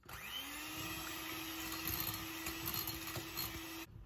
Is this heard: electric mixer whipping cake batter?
yes